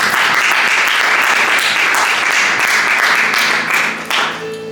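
A church congregation applauds the Lord during a service: loud, dense, sustained clapping that fills the room, then eases slightly and fades near the end.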